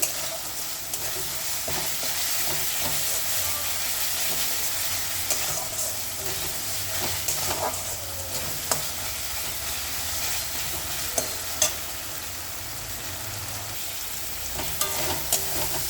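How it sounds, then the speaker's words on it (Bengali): Ginger garlic paste fries with onion and tomato in a pan, a continuous close sizzle with scattered stirring clicks and scrapes running the whole time, no talk over it. "আদা রসুনের পেস্টটা ভালো করে পেঁয়াজ আর টমেটোর সাথে কষিয়ে নেব, কাঁচা গন্ধটা যাওয়া অবধি।"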